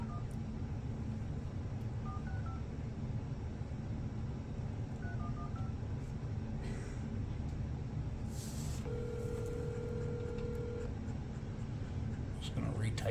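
Telephone number being dialed during a cold call to a construction company, a series of short touch-tone beeps in small clusters over a steady line hiss, followed by a longer sustained tone, with faint background noise.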